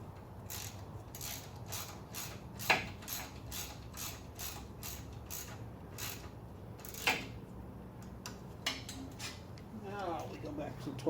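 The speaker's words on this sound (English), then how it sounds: "let's go back to the ratchet." A hand ratchet clicks in quick regular bursts, quiet and close, with a few sharper metallic clacks between runs and a voice talking faintly underneath.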